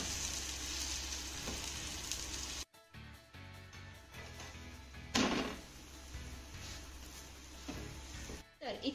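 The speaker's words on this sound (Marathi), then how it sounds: "धपाट्याची एक बाजू छान भाजून झाली की आपण हा पलटी करून घेऊया." Dhapata flatbread roasting on a hot pan gives a soft, continuous sizzle. It is cut off abruptly as the bread is flipped, then resumes more quietly with a brief sharp burst partway through.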